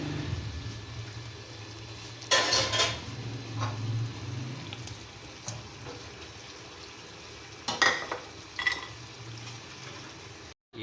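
White korma with fresh cream frying and being stirred in a pan, a quiet bubbling sizzle broken by a few louder scraping stir bursts, with no voices.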